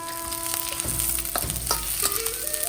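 Ginger and garlic stir-fry in a hot wok with mushrooms and vegetables for hakka noodles, making a close, continuous sizzle broken by sharp scrapes and clatters of stirring.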